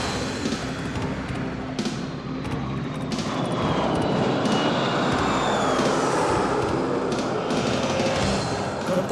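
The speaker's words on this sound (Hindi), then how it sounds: "कर्तव्य पथ साक्षी बनेगा तेजस, सुखोई और राफेल जैसे विमानों के हैरत अंगेज कर देने वाले एयर शो का।" Military jet aircraft roar overhead in a Republic Day flypast at a Kartavya Path air show featuring Tejas, Sukhoi and Rafale, a loud sustained broadband engine rumble with rising whines, continuous throughout without speech.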